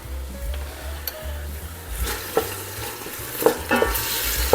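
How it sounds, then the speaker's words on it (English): Ingredients sautéing in about a tablespoon of olive oil in a pan for Thai coconut curry soup, a close crackling sizzle with stirring scrapes and occasional sharper taps from the spoon. "So I'm just sauteing the 2 together."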